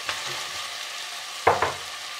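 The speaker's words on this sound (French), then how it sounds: "On met donc le potiron." Pumpkin pieces dropped into a hot pan for a cauliflower and pumpkin soup, with a soft background sizzle and two sharp clattering bursts near the end as the pieces land and are stirred.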